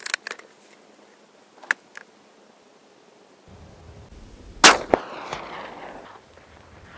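A Marlin XT-22 rifle fires at a steel plate about 288 yards away, giving a few sharp, separate cracks spread over quiet outdoor air, with one louder report near the end.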